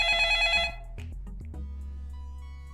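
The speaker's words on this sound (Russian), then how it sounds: "Блин, кто-то звонит." A telephone rings with a bright electronic trill that stops abruptly, followed by soft handling clicks and a faint low hum.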